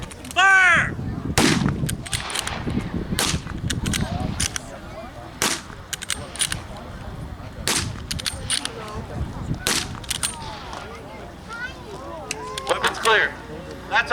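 Flintlock muskets are fired in a historical weapons demonstration at an outdoor heritage event, with several sharp loud reports spaced irregularly, mixed with crows cawing and people talking nearby.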